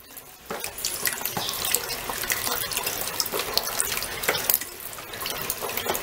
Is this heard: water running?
yes